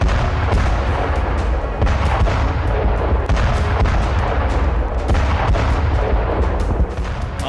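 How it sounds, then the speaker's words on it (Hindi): Artillery shelling in the Russia-Ukraine war: a dense, continuous barrage of deep booms and rumbling impacts, loud and unbroken for the whole stretch, with no voices. "आर्टिलरी से गोलाबारी हो रही है।"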